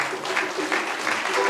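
Audience applause at a Good Friday gathering, steady dense clapping from a crowd with voices mixed in throughout.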